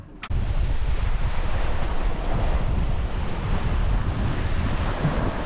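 Strong wind and breaking waves batter a small sailboat crossing the North Atlantic alone in a storm, a loud, steady roar of gusts and surf that fills the whole stretch after a brief knock at the start.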